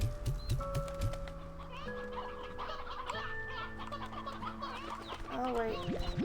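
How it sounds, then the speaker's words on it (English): Stony hens in the video game Slime Rancher 2 cluck repeatedly over steady game music, with short rising chick-like calls near the end, moderately loud in the mix. "we're gonna put a bunch of these stony hens back because this is too many"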